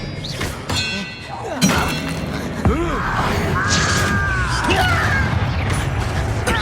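Confringo spell blasts in the game Hogwarts Legacy land as a few sharp thuds and crashing impacts amid combat clatter and whooshing magical effects, with some shouted voices mixed in.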